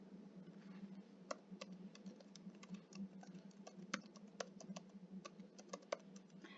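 Computer keyboard typing as an email address and password are entered: a steady run of quick, light key clicks with a few sharper taps, close by over a low hum, with no talking.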